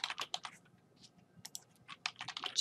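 Quick, light keystrokes on a computer keyboard as a search is typed, irregular clusters of crisp clicks with short pauses, quiet and close.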